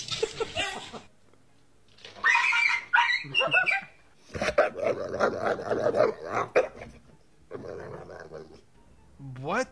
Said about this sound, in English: That dog could literally kill that cat.